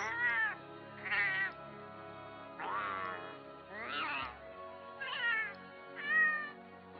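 Pitched-up Palico cat voices for Monster Hunter World meow one after another, about six distinct drawn-out meows in a steady sequence, fairly close and alone with no talk.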